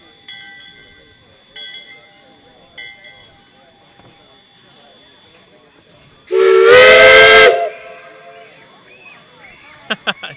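A steam whistle at the 2023 Kentucky Steam Whistle Blow, fed by steam from Jetto Coal locomotive number 85, gives one loud, harmonic blast of about a second, with faint earlier toots and distant crowd talk around it.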